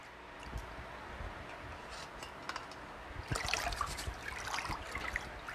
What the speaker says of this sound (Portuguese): Eu vou escorrer essa água.